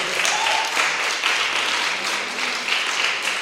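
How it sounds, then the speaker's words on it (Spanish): A church congregation applauds in a dense, continuous wash of clapping that stays at a steady level throughout, filling the room with no speech over it. "Denle un aplauso al Señor."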